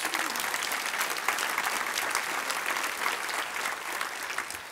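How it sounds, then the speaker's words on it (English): Audience at an annual meeting and membership banquet applauds steadily in a dense, even wash of clapping that holds at one level throughout. "So let's give Bonnie a round of applause."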